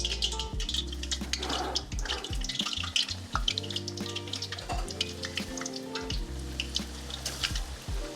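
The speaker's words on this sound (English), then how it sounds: "we're just gonna dump the chicken in there" Raw chicken dropped into hot oil for fried chicken crackles and sizzles continuously, with sputtering pops and splashes up close alongside low humming tones in the kitchen.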